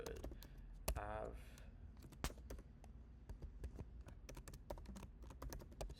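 Typing an address on a computer keyboard: quiet, irregular key clicks, a few sharper taps among them, with a brief murmur of speech near the start.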